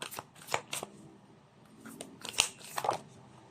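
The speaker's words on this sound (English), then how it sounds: "let me pull up a message for you from Spirit using the Whispers of Love Oracle deck" Whispers of Love oracle deck cards being shuffled by hand, a run of quick papery riffles and soft slaps coming in short bursts, close and fairly quiet, with no voice over them.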